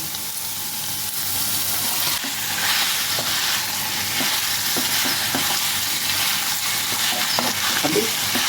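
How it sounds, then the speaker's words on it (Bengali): Chicken pieces frying with onion, ginger and garlic in a pan for chicken makhani, a steady loud sizzle with scraping stirring strokes throughout, no talking. "এবার আমরা এর উপরেতে মাংস দিয়ে দেবো"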